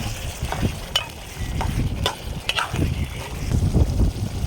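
Chicken curry with spices is stirred in a pot over an open wood fire outdoors, a close scraping and sloshing with soft sizzling and irregular stirring knocks, heard alone without talk.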